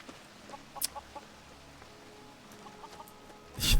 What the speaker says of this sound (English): The chickens ratted me out.